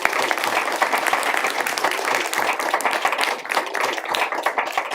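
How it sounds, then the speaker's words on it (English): A seminar audience gives a round of applause, dense steady clapping from many hands filling the room for the full duration, fairly close and even in loudness, with no voices standing out. "can I ask you just to join me in giving a round of applause to Monica?"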